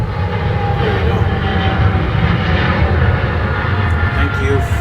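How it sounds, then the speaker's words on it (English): Airplane passing overhead outdoors, a steady low broadband engine rumble lasting throughout, moderately loud, with faint speech beneath it. "Thank you, frickin' airplane."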